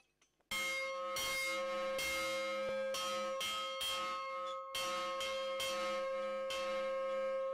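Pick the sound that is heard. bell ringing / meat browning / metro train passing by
bell ringing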